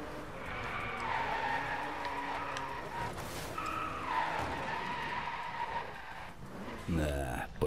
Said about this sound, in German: Weiter geht's zum nächsten Drift.